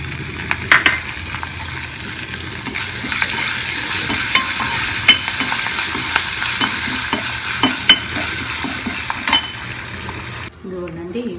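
Curry leaves tossed into a hot-oil tempering with asafoetida for a ginger chutney sizzle and crackle steadily, with frequent clinks and scrapes of a stirring spoon against the pan.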